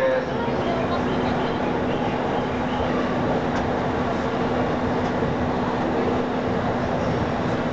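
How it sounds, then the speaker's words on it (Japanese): A train pulls into a platform at Yokohama station in Japan, a steady broadband rumble with a constant hum running unbroken and loud throughout, with no distinct clicks. "8番線にも電車到着です。"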